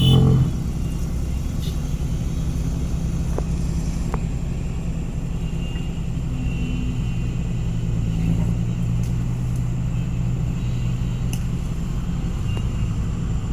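A car engine rumbles at idle, deep and steady close by, with a louder burst at the start and occasional faint clicks over the continuous low drone.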